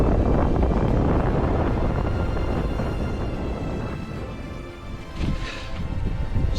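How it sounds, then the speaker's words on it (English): Strong wind sweeps over a high hilltop in the Cheviot hills on a hill route from Clennell to Cocklawfoot. It is a continuous, loud buffeting roar against the microphone that eases briefly, then surges back. "It's getting rather windy though."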